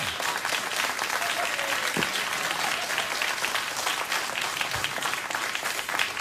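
Studio audience applause at a late-night talk show, a dense steady roar of clapping that fills the whole stretch at even loudness, with no talking over it.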